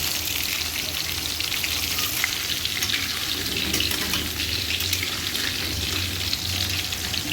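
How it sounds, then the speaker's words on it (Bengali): Potatoes frying in a pan give a steady, continuous sizzle and crackle for the whole stretch, close and fairly loud with no talking over it. "আলুটা বেশ ভালো ফ্রাই হয়ে যাচ্ছে"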